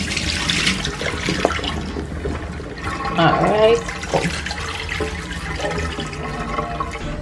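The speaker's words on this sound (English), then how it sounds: "So wash off your potato then." A potato is washed under a running kitchen tap, making a splashing stream of water that surges louder partway through. A voice speaks briefly over the water.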